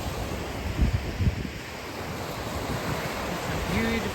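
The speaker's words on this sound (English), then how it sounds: "It's a beautiful day on the beach." Ocean waves wash onto a beach on a summer day, a steady broadband surf hiss with wind buffeting the microphone and a couple of low thumps early on.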